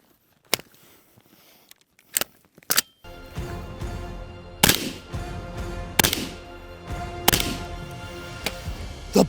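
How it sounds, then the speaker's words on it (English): Rifle shots ring out: three isolated cracks in near silence, then a busier stretch of loud, sharp reports with echoing tails against background noise, close and punchy. "Because we have the one rifle to rule them all."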